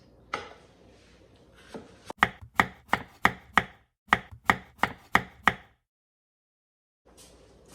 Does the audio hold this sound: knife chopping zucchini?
yes